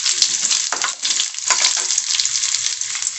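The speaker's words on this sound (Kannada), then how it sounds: "ಇದು ಮಸಾಲೆ ಫ್ರೈ ಮಾಡಲಿಕ್ಕೆ" Spices, black pepper and chopped onion sizzle in hot oil for a mutton trotter curry, a steady close frying hiss with brief crackling bursts throughout and no voices.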